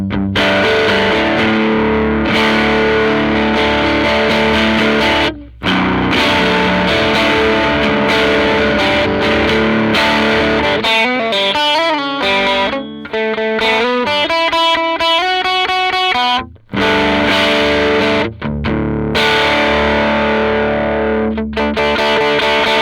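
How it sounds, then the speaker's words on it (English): An electric guitar runs through a medium-gain Calamity Drive overdrive into an amp model on a Neural DSP Quad Cortex, thick distorted chords and faster riffing lines with a few brief pauses, loud and unaccompanied. "So just some kind of medium gain settings on the Calamity Drive running into that amp"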